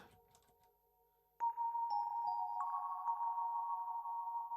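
Sustained Yamaha Reface CP tones through a Strymon effects pedal swell in after a brief quiet hiss, holding and stepping between pitches with a processed, shimmering effect.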